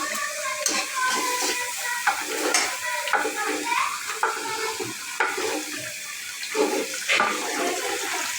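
Meat cooking in a large pot for a wedding feast, a steady bubbling sizzle with stirring clatter and occasional sharp scrapes, loud and continuous throughout.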